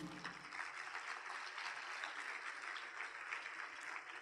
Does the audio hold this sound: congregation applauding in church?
yes